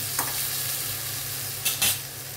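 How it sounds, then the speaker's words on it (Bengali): Spice masala frying in a pan as a little water is added, giving a loud continuous sizzle with a couple of brief scraping stirs near the end, close and without talk. "অল্প সামান্য একটু জল দিচ্ছি। মশলাটা যদি পুড়ে যায় সেজন্য।"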